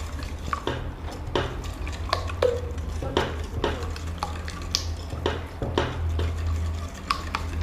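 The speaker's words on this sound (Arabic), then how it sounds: "نديروا معاه السكر. نخلطوهم مع بعضهم." Sugar and oil are stirred together in a bowl, giving repeated scraping and clinking strokes at an irregular rhythm over a low steady hum, close and moderately loud, with no talking.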